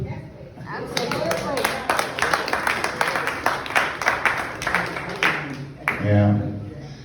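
Crowd applause and audience noise fill a stand-up comedy show, a dense patter of clapping that swells and fades over several seconds and mixes with voices before dying down.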